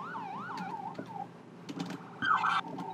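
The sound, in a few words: police siren test in Roblox video game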